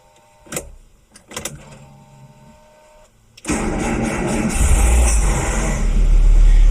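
A Renault Twingo Initiale, left abandoned for 18 months, starts after a few faint clicks: the engine catches abruptly and settles into a loud, steady, close idle rumble that swells slightly.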